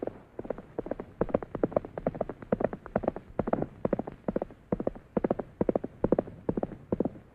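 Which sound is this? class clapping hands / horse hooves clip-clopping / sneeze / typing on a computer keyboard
horse hooves clip-clopping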